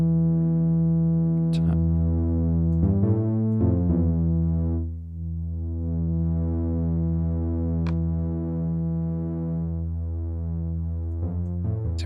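A sustained synth tone from Ableton Drift with a rich stack of harmonics that thickens as a second oscillator joins, with a few brief clicks and a short dip midway.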